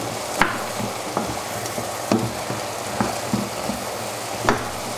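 Potatoes are stirred into a sizzling one-pot chicken stew with pancetta and beans, with a steady frying hiss broken by repeated knocks and scrapes of a spoon against the pot, close up and with no voices.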